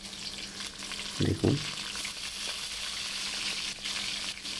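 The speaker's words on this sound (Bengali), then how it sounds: "আমি এর মধ্যে কিছু পেঁয়াজ কুচিয়ে দিয়ে দিচ্ছি।" Chopped onions hit hot oil in a wok with a couple of dull thuds, then fry in a bright, steady sizzle while a voice speaks briefly.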